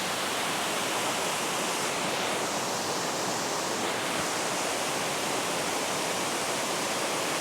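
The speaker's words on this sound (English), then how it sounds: "this waterfall after the rain" Heavy, steady rush of a waterfall swollen after rain at Somersby Falls, a dense broadband roar that holds constant and close throughout with no voices.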